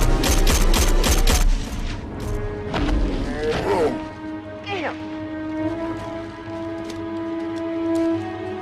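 Gunfire in a 2000 action film, loud rapid bursts of shots opening the scene over a heavy low rumble, followed by sweeping crashes and thuds and a sustained droning tone as the shooting gives way.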